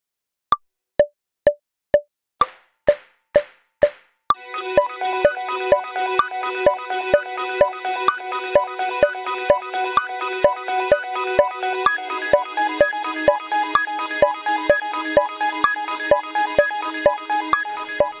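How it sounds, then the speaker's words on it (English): A steady metronome click track clicks alone at first, then continues under synthesized band music with sustained tones and rhythmic plucks, the clicks staying regular throughout. "this is what one of our click tracks sounds like"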